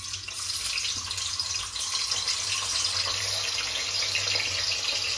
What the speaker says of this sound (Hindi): दूध डाल रहे हैं